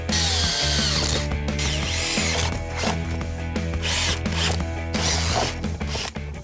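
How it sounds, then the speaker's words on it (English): A power drill whines steadily and loudly throughout while drilling holes in a van floor, its motor pitch wavering as the bit bites, with brief dips and surges near the end. "Oh, this drill is ridiculous."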